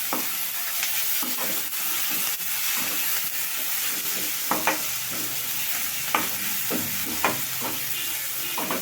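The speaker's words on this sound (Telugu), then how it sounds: "కొంచెం అల్లం మీద పేస్ట్ మనకి నూనెలో మంచిగా ఫ్రై అవ్వాలండి కొంచెం పచ్చివాసన పోయే వరకు" Ginger garlic paste sizzling in hot oil in a pan, a steady close frying hiss with scattered spoon scrapes and taps as it is stirred, no voices.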